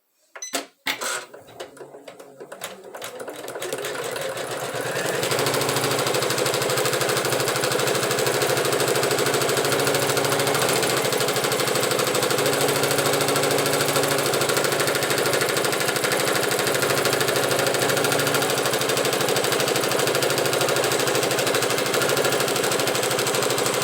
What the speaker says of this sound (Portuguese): Então, vou posicionar o meu tecido e agora a máquina irá prender novamente esse tecido.